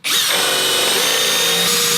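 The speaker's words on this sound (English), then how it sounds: "Okay, so I'm going to go ahead and drill a hole." A power drill with a Forstner bit whines loudly and steadily up close as it bores into wood, unbroken from start to finish.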